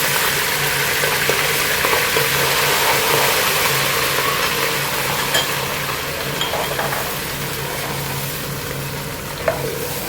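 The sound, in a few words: garlic ginger paste frying in hot oil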